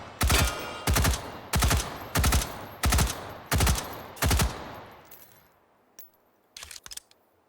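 M16A4 rifle in H3VR firing seven evenly spaced, loud, sharp shots about two-thirds of a second apart, followed by a fading echo and a few faint metallic clicks and clatters.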